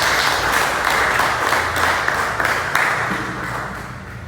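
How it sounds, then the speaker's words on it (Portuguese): A congregation at a church service claps continuously and loudly, a dense wash of applause with rhythmic accents, no talking over it. "Pode aplaudir o Senhor bem forte"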